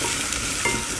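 A spoon stirs creamy mushroom soup in a pot, with pepper and salt just added: a brief, steady scraping swirl with a soft sizzle underneath, lasting about a second and moderately close.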